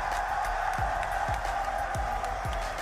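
A large crowd cheering at the Call of Duty major final in New York, a steady roar of voices and applause filling an arena, with a few low thumps recurring beneath the noise.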